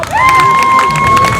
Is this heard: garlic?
no